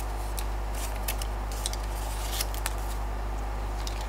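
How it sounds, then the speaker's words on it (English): Blade snipping and scraping through a cardboard sculpture template, a run of small crisp cuts close by, faint against a loud steady low hum. "I'm going to flip my cardboard over and cut the back out."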